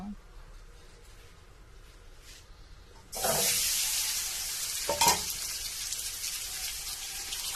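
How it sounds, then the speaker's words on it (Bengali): Boiled eggs drop into hot oil in a wok: a quiet stretch, then a sudden loud burst of spitting sizzle that stays strong, with a scrape of stirring partway through. "কিছুক্ষণ নাড়াচাড়া করে এপিট ওপিট করে ভালোভাবে ভেজে নিব।"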